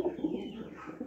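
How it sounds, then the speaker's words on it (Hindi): A pigeon coos softly and briefly nearby, a low throaty murmur among rare-breed pigeons kept by a hobbyist. "ये देखें, ये कबूतर कुटुकू कुटुकू कर रहा है।"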